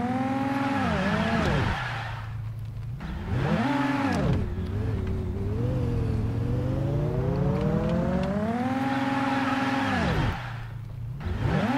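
Car engine revving hard and continuously while drifting, rising and falling in pitch through repeated throttle swells with tire squeal, loud and close throughout, no talk.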